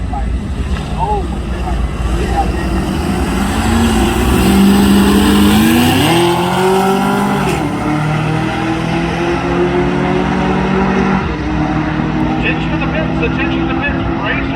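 A race car making a run at Rockingham drag strip, heard as a steady loud engine drone whose pitch rises through the middle of the run over constant background roar.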